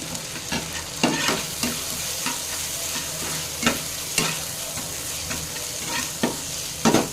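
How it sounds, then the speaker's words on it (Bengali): Chopped tomato frying in a pan with onion and spices, a steady close sizzle broken by regular scraping and tapping of a stirring spoon, no voices. "এবার টমেটোটাকে একটু ভালো করে ভেজে নিতে হবে, যাতে একটু টমেটোটা সেদ্ধ হয়ে যায়।"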